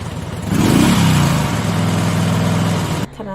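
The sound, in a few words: motorcycle engine starting and revving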